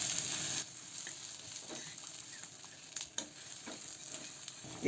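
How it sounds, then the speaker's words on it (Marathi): Stuffed eggs sizzle steadily in masala paste on a hot tawa, with a continuous close frying hiss and a few soft stirring scrapes throughout. "या वाटणात परत परतून घेऊ आपण सगळी अंडी"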